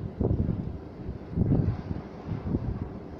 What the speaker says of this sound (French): Et les rafales, elles sifflent dans les arbres